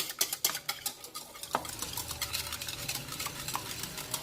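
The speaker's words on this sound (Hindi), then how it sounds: "इसको पहले मैं मिक्स कर लेती हूँ अच्छे तरीके से।" Egg batter for chicken rolls is whisked in a bowl, giving repeated quick scraping and clinking strokes close up, with no voices.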